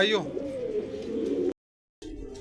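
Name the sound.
pigeons cooing on a rooftop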